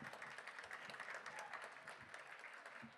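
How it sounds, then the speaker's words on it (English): University gala audience applauding the students, a soft continuous patter of many hands heard faintly from a distance, steady throughout. "Big round of applause for our students."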